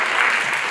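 An audience at a presentation applauds. The wash of clapping is brief, steady and fairly loud.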